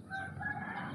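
A white-breasted hen near her three small chicks gives a short, close clucking call, brief and fairly soft against a quiet outdoor background.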